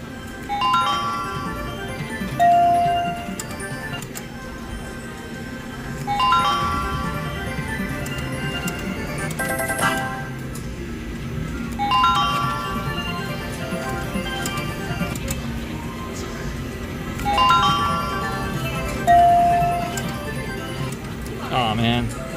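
A high-limit Wheel of Fortune slot machine spins repeatedly in a casino, its jingling tones and chimes returning in cycles about every five seconds over steady machine hum and background noise.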